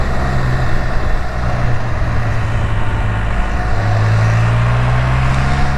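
A Dodge vehicle drives on a loop road, its steady engine and road rumble continuous and fairly loud throughout with no talk.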